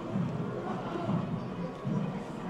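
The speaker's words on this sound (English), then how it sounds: "In-game crowd cheering for Sheik." In-game crowd in a fighting game cheering for Sheik during a tournament match, a low, muffled roar that swells in three waves over a steady murmur.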